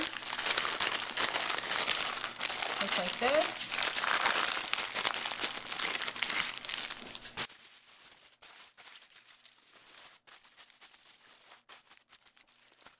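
Parchment paper crinkles and rustles steadily while it is wrapped around turkey stuffing, loud and close for about seven seconds, then fades to faint handling noise. A brief spoken remark comes near the start.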